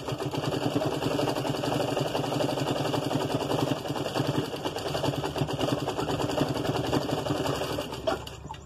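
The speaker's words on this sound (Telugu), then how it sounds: "ఇలా కుట్టు వేసుకోవాలి ఇప్పుడు ఇటువైపు కూడా ఇంకో కుట్టు అలాగే వేసేసుకోవాలి" Continuous close-up whirring of a sewing machine stitching lines on the back neck of a blouse, running at a steady, fast pace for several seconds before slowing and stopping near the end.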